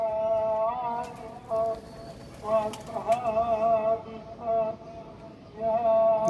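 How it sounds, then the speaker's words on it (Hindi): A Lakha pigeon coos close by in repeated soft, rolling bursts with short pauses between, while a person speaks intermittently in the background. "ये लखवे में हमारी कबूतरी है।"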